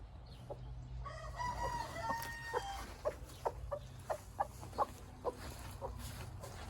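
A broody hen clucks in a chicken coop, starting with a drawn-out vocal call and then settling into a regular series of short, close clucks over a low background hum.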